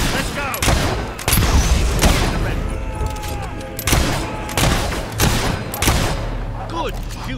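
Heavy gunfire in a video game ship battle: rapid bursts and booming shots stacked in dense volleys, loud and close, with a voice speaking briefly over the chaos.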